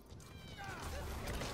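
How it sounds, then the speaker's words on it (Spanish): A cat meows during an online Metal Gear Solid V match, a short rising-and-falling cry heard over game noise while someone talks nearby. "El gato, tío."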